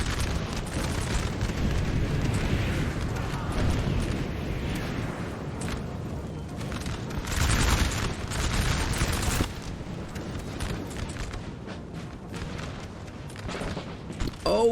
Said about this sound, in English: Artillery gonna focus down the heavy cav